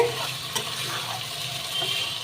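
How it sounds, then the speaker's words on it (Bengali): Water poured into a pan of sautéed potatoes while cooking an egg curry, a steady hissing, sizzling rush that stays continuous and fairly close for a couple of seconds. "এবার আমি জল ঢেলে দেবো"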